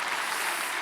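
Congregation applause during a church service, a dense steady wash of clapping that holds at an even level from start to finish, with no voices over it.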